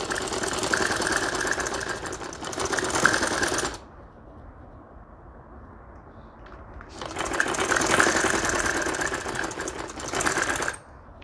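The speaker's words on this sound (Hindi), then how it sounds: "इस तरह से फोल्ड कीजिए एंड स्टिचिंग कर लें।" A sewing machine stitches a fold of fabric for a ladies' shirt with piping, running in two loud, steady whirring bursts separated by a few quiet seconds.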